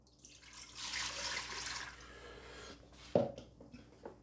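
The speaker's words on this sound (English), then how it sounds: "Add 750 ml of water." Water pours into a Cosori pressure cooker pot in a steady broadband hiss for about two seconds, then tapers, followed by a sharp metallic clunk and a few small knocks.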